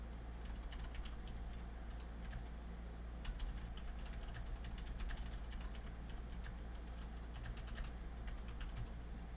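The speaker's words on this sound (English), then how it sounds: "I'm just typing something" Someone types on a computer keyboard in a quiet room, a steady stream of soft, rapid key clicks under a low background hum, with no talking.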